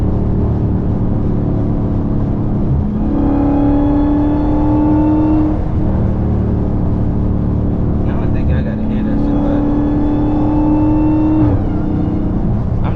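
A loud Hellcat engine revs up and holds high, drops back, then revs again, with a deep throaty rumble throughout.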